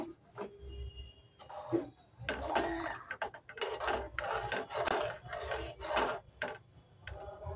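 Milk and semolina (suji) with sugar being stirred in a pot, a spoon scraping and rubbing against the metal in steady, repeated strokes, close and fairly quiet.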